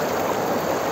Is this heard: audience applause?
no